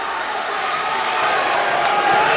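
Loud crowd roar filling an MMA fight venue during a Martin Chester versus Dave Toole bout, steady and dense throughout with no clear peaks.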